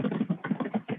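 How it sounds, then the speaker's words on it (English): Rapid, steady keystrokes on a computer keyboard heard through a conference phone line, close and clear with an even tapping rhythm and no talk. "there's somebody on the line who we can hear typing"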